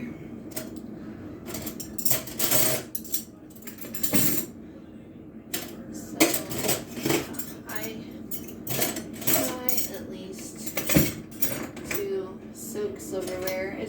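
Silverware clatters and jingles as it is dropped into a kitchen dishwasher's silverware tray, with busy, uneven metallic clinks close by throughout and a voice talking beneath them.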